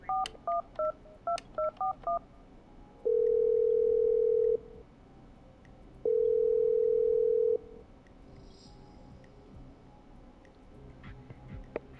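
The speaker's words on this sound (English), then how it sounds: "Okay, I'm dialing." Telephone in the video game Killer Frequency: a quick run of touch-tone dialing beeps, then two long, steady, loud tones separated by a short pause, with no talking.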